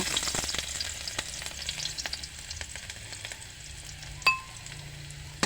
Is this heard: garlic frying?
yes